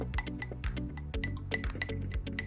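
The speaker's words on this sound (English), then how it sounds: "I'm gonna add 2 tablespoons of chia seeds while stirring to prevent clumping." A spoon stirs two tablespoons of chia seeds into a blended pudding mixture in a glass, giving repeated light clinks against the glass with soft wet swishing between them, close and steady with no talk.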